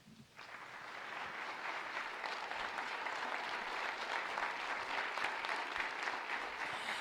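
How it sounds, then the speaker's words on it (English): An audience at a Clark County School District State of the Schools address breaks into sustained applause, a dense, steady wash of clapping from a large room that swells quickly and holds throughout without talk. "Let's have another round of applause for our amazing students"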